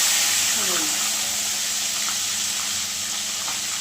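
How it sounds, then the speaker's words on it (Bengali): Cauliflower pieces dropped one by one into hot oil, a continuous loud hiss of frying with small pops and a brief stirring scrape near the start. "আর আমি যে ফুলকপিগুলো রেখেছিলাম একে একে তেলের পরে দিয়ে দেব"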